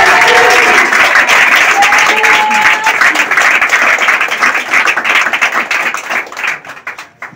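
A church congregation applauds to acclaim the Lord after a testimony about a serious road accident. Loud, dense clapping fills the room, then gradually thins and fades toward the end.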